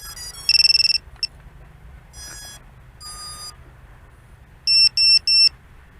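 A VIFLY Finder drone buzzer in pre-alarm mode sounds bursts of loud high-pitched electronic beeps: a rapid chirping run, scattered single tones, then three evenly spaced longer beeps near the end, over a low steady hum.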